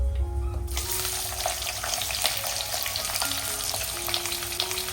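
Sliced onions frying in hot oil with bay leaf, black cardamom, star anise, cinnamon and black peppercorns, a steady close sizzle with faint crackles throughout and no talking.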